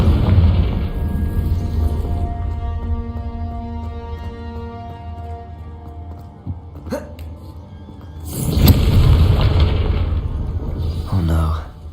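A Confringo fire spell explodes in the video game Hogwarts Legacy: a loud, broad blast bursts out and then rumbles for several seconds over steady game background sound, with a sharp crack just before it.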